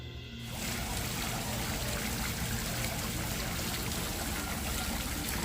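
Water trickling and splashing from an outdoor water feature in a Gatlinburg, Tennessee village, a steady broadband rush close by that starts abruptly and continues evenly, with no talk.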